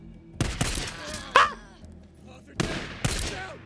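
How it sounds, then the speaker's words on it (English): Bursts of gunfire in the Days Gone video game, a few sharp shots clustered early and two more near the end, with background noise between them. "Who's shooting me?"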